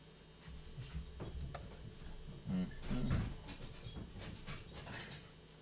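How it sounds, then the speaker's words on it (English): An anxious dog whimpers and whines in faint, scattered bursts indoors, with light footsteps or claw taps moving around between the cries. "That's the neurotic dog wondering where everybody is."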